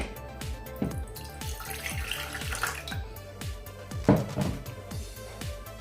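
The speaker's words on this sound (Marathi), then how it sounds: "यामध्ये थोडंसं आणखी पाणी घालते मी" Water runs and splashes steadily into a bowl of rava idli batter for several seconds, with a few light clinks and a brief louder splash near the end.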